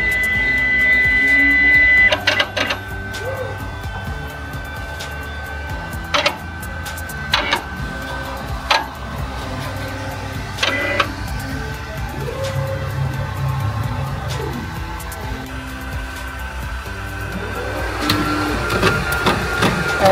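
A Ricoh Ri 4000 direct-to-garment printer runs its carriage back and forth with a steady mechanical whir, broken by sharp clicks and knocks, for about twenty seconds.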